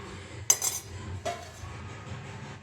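A metal spoon scrapes and clinks against a cooking pot, followed by the sharp clank of a lid set on top, two short bright clatters over quiet background.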